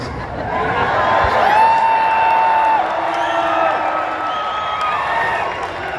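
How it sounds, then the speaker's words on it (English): Big energetic rally crowd at Saginaw Valley State University in Michigan, a sustained wash of cheering and whooping with a few whistles rising above it, loud and continuous throughout. "very energetic crowd."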